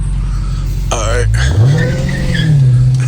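A Dodge Challenger Hellcat Redeye accelerates hard in sport mode, its loud engine roaring and rising in pitch as the tires break loose and squeal, heard from inside the car with people talking over it.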